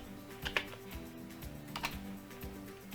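Quiet, close typing on a computer keyboard, a short run of soft, irregular key taps with a couple of sharper clicks, no voice over it.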